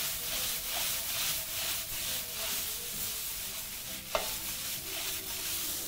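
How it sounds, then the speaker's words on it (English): Samosa vegetable or meat filling is tossed in a frying pan, giving a continuous scraping sizzle with a rhythmic stirring swish and one sharp knock partway through. "Just proceed to toss that"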